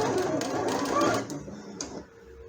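A sewing machine stitches fabric for a baby elephant pillow in a quick rattling run of needle strokes for about a second and a half, then stops, with someone talking over it.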